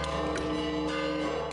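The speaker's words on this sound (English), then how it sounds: "the peal of bells could be heard throughout Jerusalem's old city" Church bells peal at the Church of the Holy Sepulchre in Jerusalem's Old City, overlapping rings sustained in a steady wash, moderately faint as though heard across the surroundings, with no voices.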